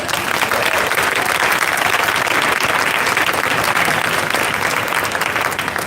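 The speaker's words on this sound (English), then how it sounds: "Let's give them all a round of applause." Loud, steady applause from a large audience at a demo day for finalist pitches, continuous clapping filling the whole stretch without a break.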